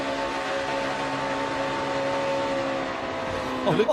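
NASCAR stock car engine droning steadily through a corner, a continuous loud motor tone with a sharp rise near the end, heard beneath a commentator's voice.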